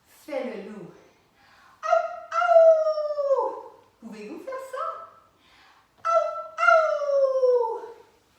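A human voice imitates a wolf howl in a French lesson about forest animals. Four drawn-out, wavering howls rise and then slide down, two of them longer, each separated by short pauses, close and clear.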